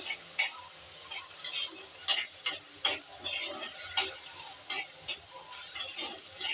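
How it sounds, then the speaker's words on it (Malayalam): Chopped small tomato sautéing in a pan, a steady soft sizzle broken by frequent clicking stirs and scrapes, close and moderate in level, with no voices. "തക്കാളി ഇട്ട് കൊടുത്തു. ചെറുതായിട്ടൊന്ന് വാഴട്ടെ."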